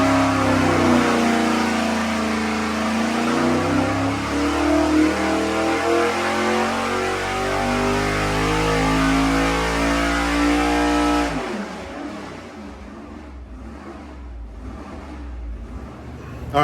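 A nitrous-fed 434 small-block Chevy V8 with a carburetor, being warmed up with a couple degrees of timing added, rumbles loud and close with rising revs for about eleven seconds, then cuts to a low, rough idle.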